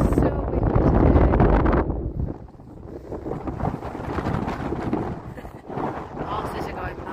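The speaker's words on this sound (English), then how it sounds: "It is so windy today." Gusty wind buffets the microphone with a loud, rumbling roar, heaviest at the start and then surging and easing, with voices faintly mixed in.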